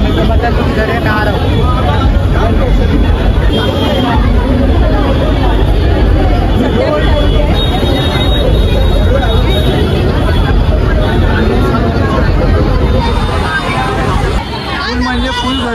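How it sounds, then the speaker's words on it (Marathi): Dense crowd babble at a crowded Saturday garba festival in Maharashtra, loud and continuous throughout, with a close voice speaking over the steady hubbub. "म्हणजे फुल गर्दी आहे सगळीकडे।"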